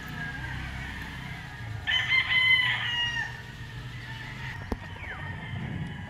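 A White Kelso gamefowl rooster with a straight comb crows once, a clear mid-distance call lasting about a second over a quiet outdoor background, followed by a brief sharp knock.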